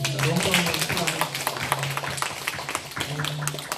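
A church congregation applauding, a dense stretch of clapping from many hands that carries on steadily, with a voice speaking over it.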